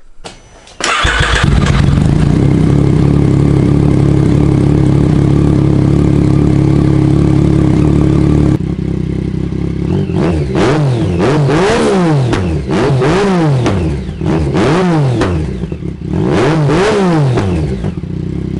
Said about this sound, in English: I'm just gonna start up the bike, let you guys hear it, and show you what the bike sounds like